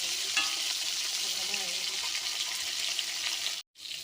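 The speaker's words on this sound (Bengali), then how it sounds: "পটলগুলো সব ভেজে নিয়েছি লাল লাল করে ভেজে তুলে রেখেছি" Pieces of pointed gourd (potol) fry in hot oil, a steady crackling sizzle with stirring noises, briefly cut by a sudden dropout near the end before the sizzle resumes.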